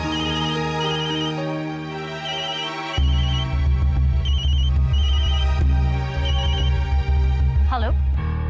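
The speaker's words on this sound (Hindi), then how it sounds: "आपका फोन? हाँ फोन," A phone ringtone chimes in a repeating electronic melody over background music, close and clear, with a brief voice near the end.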